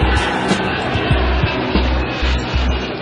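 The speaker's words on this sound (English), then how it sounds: "Despite of its enormous takeoff weight of almost 400 tons, AN-124 can take off even from sand." Antonov AN-124 Ruslan heavy transport aircraft with turbofan engines roaring on takeoff at almost 400 tons, a loud, sustained broadband rumble with rhythmic low thumps, no voices.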